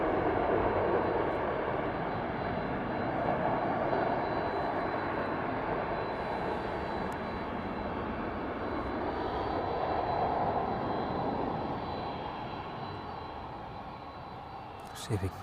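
A Boeing 767 rolls past at East Midlands Airport in the evening, its engines a broad, steady roar that swells and slowly fades over the whole stretch, fairly distant and continuous.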